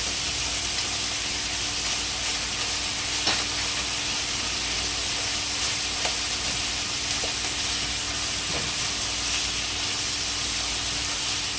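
Onions sizzle in a hot pan for a chicken stir fry with bitter melon, a steady broadband hiss with faint clicks and pops running throughout, with no voices.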